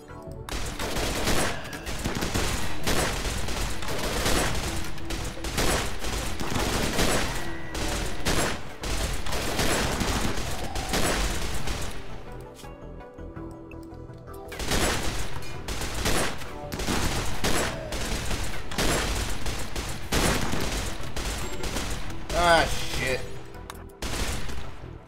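Automated turrets in the video game Rimworld firing guns during a raid, a dense, continuous rattle of rapid shots over about 25 seconds with a brief lull midway, then renewed heavy firing.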